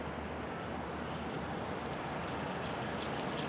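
Choppy river waves where the Djoué flows into the Congo, a continuous rushing wash of water under gusty wind buffeting the microphone, with no voices.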